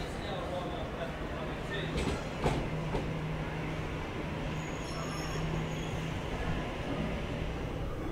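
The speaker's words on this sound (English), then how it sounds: "We have a Liverpool via Bankstown service arriving on platform 22." A Sydney Trains Liverpool via Bankstown service rolls into platform 22 at Central Station, a continuous low rumble with faint high squeals echoing across the busy platform.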